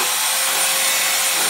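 Close, loud, continuous abrasive rasp of sanding across furniture coated in water-based paint to distress the finish, steady and unbroken with no talk.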